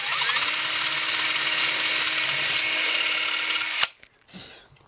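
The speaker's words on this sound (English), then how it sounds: "I'm going to drill another hole on the other end." A power drill bores a hole through an electric guitar body, a loud, steady whine for nearly four seconds that cuts off abruptly, followed by a brief softer clatter.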